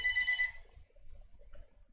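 A phone ringtone chimes briefly at the start, a bright electronic tone that cuts off within half a second, followed by low background rumble.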